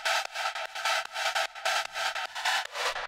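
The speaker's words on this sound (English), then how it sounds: "on the second part there is a twist because the lead has this scatter effect" Synth lead in a hard techno track with a scatter effect, chopped into rapid stuttering bursts of bright tone separated by short gaps in an uneven, glitchy rhythm.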